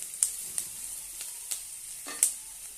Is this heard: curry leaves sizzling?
yes